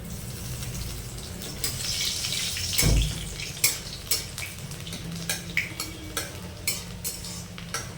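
Two cloves of crushed garlic frying in hot oil, a steady sizzle with a brief loud clatter as the garlic goes in, followed by a run of sharp spoon scrapes and taps against the pan.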